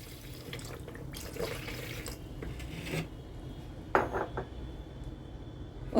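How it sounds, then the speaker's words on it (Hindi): Milk poured over muskmelon for a sharbat, a soft liquid splash with light clinks of a glass and utensils, fairly quiet against faint kitchen background noise; no one speaks. "यहाँ पर दूध डाल देंगे।"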